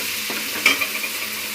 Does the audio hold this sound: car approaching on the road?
no